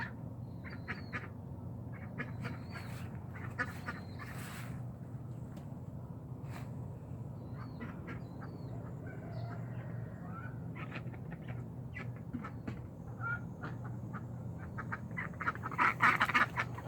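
Ducks quack repeatedly in short, scattered calls over a steady low hum in a homestead garden, the quacks coming in clusters with brief pauses between them.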